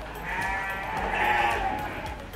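Garut sheep kept for fattening on a farm bleat close by, a long wavering cry that swells and fades over steady pen noise.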